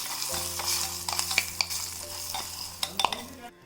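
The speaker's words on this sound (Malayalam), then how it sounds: "ഇത് നന്നായിട്ടൊന്ന് ഇളക്കി കൊടുക്കാം." Kashmiri chilli powder and turmeric being stirred in hot oil in a frying pan for a tempering, a close crackling sizzle punctuated by clinks and scrapes of a spoon, ending abruptly.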